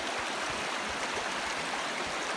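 An icy river in winter along the Kungsleden trail in Sweden, rushing in a steady, dense broadband wash of flowing water, close and continuous with no voices.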